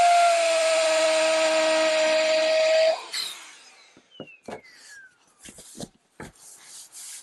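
A small air blower inflates a self-inflating camping pillow with a steady high whine for about three seconds, then cuts off into scattered rustles, taps and handling noises.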